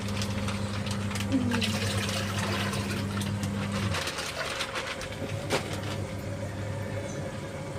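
Water poured into a home fish tank, a steady splashing pour over a low pump hum that cuts out partway through, close by, with no talk.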